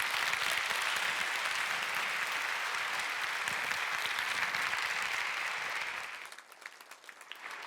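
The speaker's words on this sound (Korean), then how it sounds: "환영의 박수로 맞도록 하겠습니다" Church audience applauding to welcome a pastor to the pulpit, a broad, sustained wash of clapping that holds steady for several seconds and then thins out toward the end.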